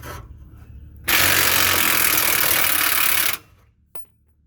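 A 1/2-inch drive impact wrench with an extractor socket unscrews a nut: one loud, steady burst of rattling hammering lasting about two seconds, then stopping abruptly, followed by a brief faint click.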